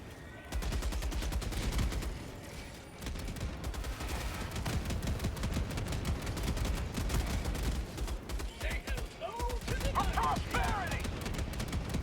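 Gunfire in the video game Helldivers 2, with sustained rapid automatic bursts and fusillades rattling almost continuously over twelve seconds, loud and dense, while a player talks intermittently over the shooting.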